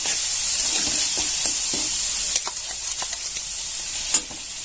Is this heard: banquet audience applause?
no